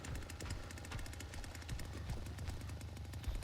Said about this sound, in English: That's my chainsaw.